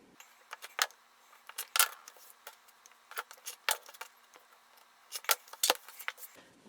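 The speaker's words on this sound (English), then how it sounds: "now I'm just going to trim to make those even" Several crisp scissor snips trimming quilt fabric in short clusters, close and fairly quiet, with brief pauses between bursts of cutting.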